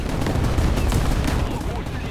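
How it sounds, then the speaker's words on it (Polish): Rapid bursts of gunfire strike a tank in the War Thunder video game, dense overlapping shots and impacts filling the whole stretch at loud, close range. "strzelają do mnie, dają mi kolejne uszkodzenia"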